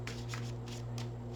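A deck of tarot cards is shuffled in four short, evenly spaced riffles, soft and close over a low steady background hum.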